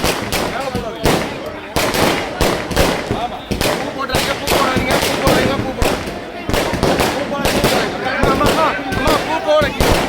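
Firecrackers burst in a rapid, dense barrage of sharp cracks and pops at a political gathering welcoming a former minister, loud and continuous with almost no gaps, with crowd noise faintly underneath.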